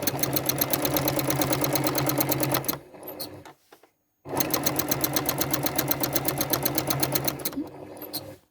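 A sewing machine with a hopping foot stitches continuous curves in free-motion quilting, its rapid even needle rattle running loud and close, stopping briefly with a click before starting again.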